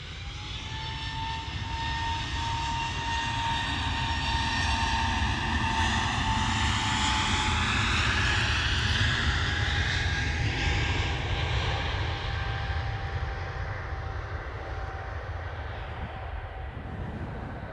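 Aircraft engines roar steadily at Manchester Airport as a plane turns, a broad, sustained rumble with a high whine that rises and falls over the whole stretch.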